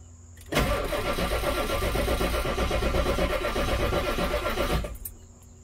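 A 7.3 Powerstroke diesel engine with a low battery, jump-started from an Odyssey battery, churning loudly and steadily for about four seconds before abruptly cutting off, close up and with no talk.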